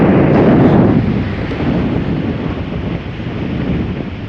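Wind roars across the microphone at a shallow fishing spot, a constant loud rushing buffet that is strongest at first and then steadies, with possible water wash beneath.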